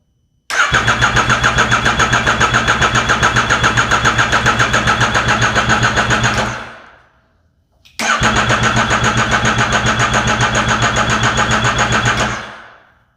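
A Yamaha FZ-09 motorcycle, in neutral and fitted with a flashed ECU, airbox mod and Sprint filter, cranks with its starter but fails to fire. Two long, loud, evenly pulsing cranking bursts of about six and four seconds are separated by a short pause.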